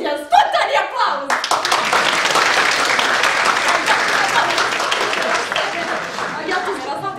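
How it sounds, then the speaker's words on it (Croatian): An audience at a school Saint Sava's Day event bursts into loud, sustained applause, dense clapping that rises sharply and holds steady before easing slightly, with a voice speaking briefly at the start. "Ajte sad jedan spontani aplauz!"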